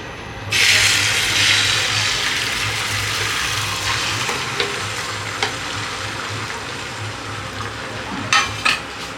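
Beaten egg hits hot oil in a pan for a Kolkata street-style egg roll, bursting into a loud, steady sizzle that continues throughout, with a few light clinks of a utensil near the end.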